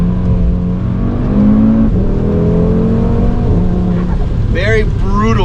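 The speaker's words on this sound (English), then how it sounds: "let's go ahead and just do some driving experience and see how the downshifts are." A 2019 Audi RS3 accelerating hard through the gears, heard from inside as a loud continuous engine drone that rises and drops with each shift, with a voice speaking briefly near the end.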